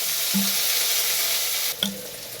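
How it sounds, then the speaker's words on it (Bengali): Steady sizzling of onions frying in hot oil, loud and continuous, with a couple of brief clinks of a utensil against the pan. "ওই তেলে আমি পেঁয়াজগুলো দিয়ে দিচ্ছি"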